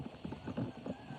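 A lazy horse walks during a morning workout, its hooves giving a quick, muffled clip-clop of several soft, even steps heard close by.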